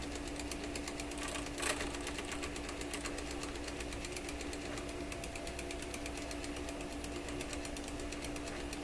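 An Electrohome Chippendale console record player with its turning rotor whacking against something on every revolution, giving a rapid, steady mechanical clatter over a constant hum, close by with no talking.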